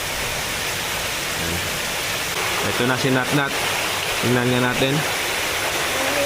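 Steady broadband rush of flowing water at Henann Prime Beach Resort, continuous and fairly close throughout, with people talking over it in the middle and end.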